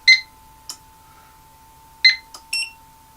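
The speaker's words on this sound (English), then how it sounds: "I must have used two different buzzers. I've got one that's a taller buzzer and one's a smaller buzzer, yeah, so that's how you got a slightly different tone." Two different electronic buzzers on a hobby ESP32 setup, one taller and one smaller, giving short sharp beeps in slightly different tones, several separate bursts over a faint steady hum.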